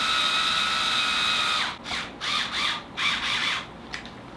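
A power drill drives screws into the teeth of a DIY Spring Bonnie mask: a steady high whine for a second and a half, then several short revving bursts as each screw seats, loud and close.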